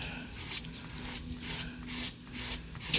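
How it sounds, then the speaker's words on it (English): Razor blade scraping down runs in automotive clearcoat, a soft, close rasping rub repeated in several short strokes, quiet and unaccompanied by speech. "some people use the razor blade technique. And what you do is just scrape down."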